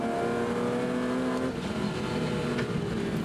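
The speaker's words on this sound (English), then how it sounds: "On board with Graham Fraser again, carrying one of our onboard cameras here in the Castrol BMW Open class." A BMW race car in the Castrol BMW Open class at Hampton Downs, heard from an onboard camera as a loud, close, steady engine drone that shifts pitch briefly midway.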